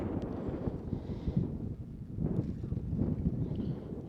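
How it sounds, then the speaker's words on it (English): Gusty wind buffeting a microphone at a high school baseball game, a steady low rumbling roar that swells and eases, with faint background sounds. "now the wind's going to pick up"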